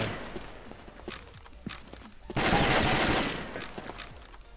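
A sustained gunfire burst rips through a Warhead match, loud and close for about a second after scattered single shots and footsteps, then tails off into quieter scattered fire.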